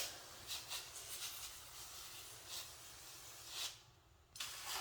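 Soft hissing bursts of a spray bottle misting the humid side of an isopod enclosure, several short squirts spaced irregularly over a quiet background, fairly faint and close.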